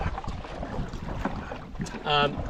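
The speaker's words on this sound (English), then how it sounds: "we are going directly into the wind, which you can probably hear on this microphone." Steady low rumbling wind buffeting the microphone while canoeing directly into the wind across open water in Wabakimi, with a brief louder tonal burst near the end over the constant gusty noise.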